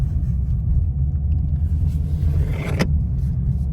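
A Ford Mustang GT rolls slowly through a parking lot, its engine giving a loud, close, steady low rumble with a brief swell near the end.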